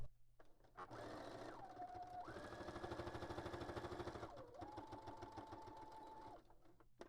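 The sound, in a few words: sewing machine doing a straight stitch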